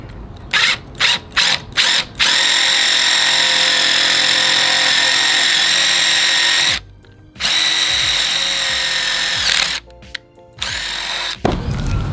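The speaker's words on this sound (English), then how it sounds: "the last thing we got to do is just drill it in there" A power drill drives screws into pocket holes while framing camper van walls: a few quick trigger bursts, then a long, loud whirring run, a brief pause, and more short bursts, all up close and without talk.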